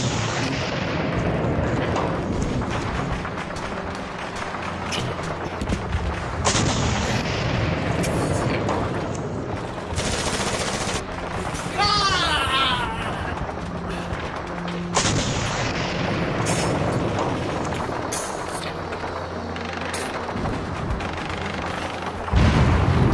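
Artillery fire from German 88 guns in a war game battle, with heavy booms and crackling gunfire rolling continuously in a dense, loud barrage that stays near throughout.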